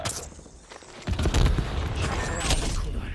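Gunfire in the video game Warzone crackles in bursts, a quieter stretch giving way to a louder, denser run of shots and impacts that carries on without a break to the end.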